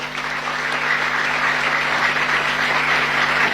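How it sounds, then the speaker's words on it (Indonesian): Steady, loud applause from an audience at an Islamic boarding school gathering, sustained clapping filling the whole stretch with no voices over it. "Tepuk tangan."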